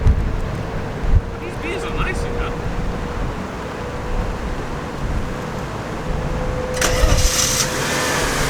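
A Mercedes 190E with the 2.6 engine, fresh battery just fitted, turns over and catches, settling into a steady close idle with a brief burst of noise near the end.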